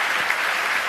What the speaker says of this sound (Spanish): Un aplauso también para Gaby